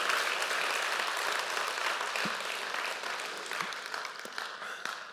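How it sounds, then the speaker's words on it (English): Church congregation at a Sunday service applauding, a broad, steady patter of many hands that slowly tapers off, with a few louder individual claps standing out toward the end. "let's give this young lady a big hand clap, and all the others too"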